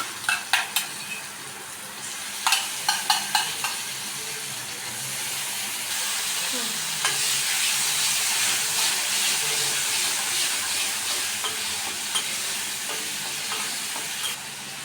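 Masala sautéing in a pan for Mughlai paratha, with a steady sizzle and hiss under repeated scraping stirs of a spatula, plus a few sharp clinks near the start.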